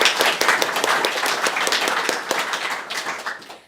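Audience applause after a presentation at a disaster challenge final, a dense, steady wash of many hands clapping that stays loud throughout and fades slightly at the end.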